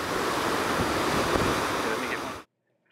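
Ocean waves crash and wash steadily over a rocky intertidal shore with tide pools, a loud continuous roar with wind noise that stops abruptly near the end.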